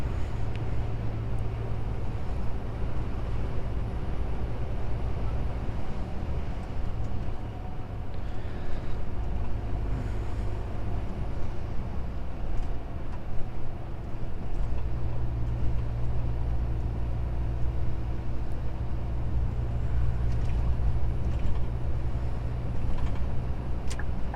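A truck driving on a road at night on the way to Istanbul, a steady loud engine drone with road rumble throughout, close and continuous, no voices.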